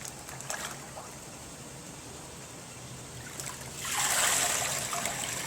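Water draining and trickling from a bonsai pot, a steady soft dribble that swells into a louder rush of water near the end, with no voices.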